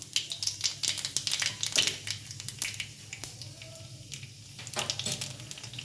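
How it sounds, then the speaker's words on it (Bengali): Nigella seeds crackle and spit in hot oil in a wok as a tempering, with irregular bursts of sharp popping over a low steady sizzle, close and moderately loud. "এবার কড়াইতে আমি কালো জিরে ফোড়ন দেব"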